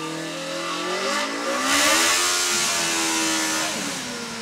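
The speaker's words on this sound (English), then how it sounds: "to be able to press a button and hear the engine rev up" A Formula SAE race car engine revs up sharply, rising in pitch to a loud peak before easing back down, close and unaccompanied.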